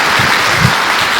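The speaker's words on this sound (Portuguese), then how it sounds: "Dê uma salva de palmas a Jesus." A church congregation claps together in steady, dense applause that stays loud and continuous throughout, with no talking over it.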